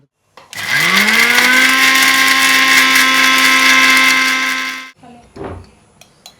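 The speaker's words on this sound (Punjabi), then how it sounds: "ਹੁਣ ਆਪਾਂ ਮਿਕਸੀ 'ਚ ਪਾ ਕੇ ਇਹਨੂੰ ਤੇ ਆਪਾਂ ਗ੍ਰਾਈਂਡ ਕਰ ਲੈਣਾ" A kitchen mixer grinder grinds cooled roasted spice masala for Amritsari chole, spinning up with a rising whine into one loud, steady high-pitched roar for about four seconds, then cutting off, followed by a few clatters.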